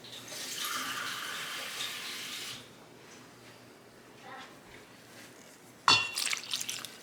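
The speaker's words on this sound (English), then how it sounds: "I'm going to add 3/4 of a cup of water." Water pours from a tap or cup into banana loaf batter for a few seconds, a steady splashing stream, then stops; a clink and light handling noises follow.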